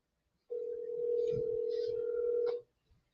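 A phone call placed from an iPhone rings out, a single steady tone lasting about two seconds at close range, with faint background noise and no speech.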